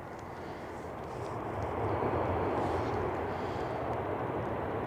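A Lufthansa airliner passes in stormy weather at Manchester Airport, its jet roar building over the first two seconds and then holding steady and fairly loud at a middling distance.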